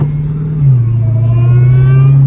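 A loud Dodge Hellcat engine drones close by with the hood removed while a thin, rising whine climbs in pitch above it, like a supercharger spooling up as the engine revs.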